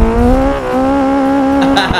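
Nissan Silvia S15 drifting in Assetto Corsa, its engine holding a steady high-rev drone while the tires squeal continuously, loud and close, with a brief shift in pitch partway through.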